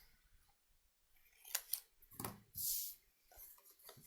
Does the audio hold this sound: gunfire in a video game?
no